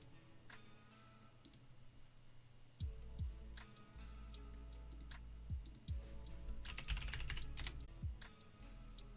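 Quiet, irregular clicks of typing on a computer keyboard tap away in bursts over a soft background hum, with a few louder thumps mixed in.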